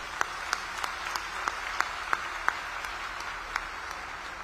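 A crowd gathered at an Ajit Pawar political rally in Ambegaon claps for guests, a steady moderate patter of applause with a few sharper individual claps standing out, with no talk over it.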